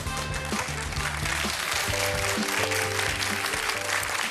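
Steady applause from a studio audience on a televised bingo lottery show fills the whole stretch, with music playing underneath the clapping.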